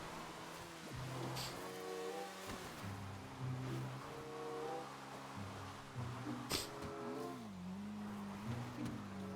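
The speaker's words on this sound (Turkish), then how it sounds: "motor güçlü abi. Baksanıza nasıl yerlerden çıkıyor." A Nagasaki Shinobi motorcycle in GTA 5 revs and accelerates through rising and falling gear shifts, its engine steady and fairly loud, with a faint wash of background ambience beneath it.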